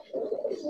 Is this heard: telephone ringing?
no